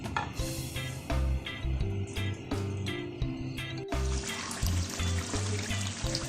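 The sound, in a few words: chicken frying in onion, tomato and yogurt gravy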